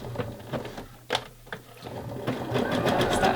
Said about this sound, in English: I'm just going to guide the fold over elastic through the machine from behind the foot